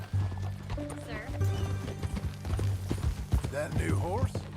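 Hooves clip-clop at a steady trot over a low music bed in Red Dead Redemption 2, with a horse whinnying and a few voices speaking over it.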